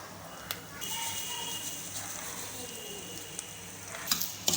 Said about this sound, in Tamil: ஒரு ரெண்டுலேருந்து மூணு நிமிஷம் மட்டும் ரவை அப்படியே வறுத்துப்போம்